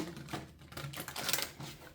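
A thick oracle card deck, an Angel Tarot, is shuffled by hand, giving quiet, quick bursts of riffling and card clatter in short irregular runs.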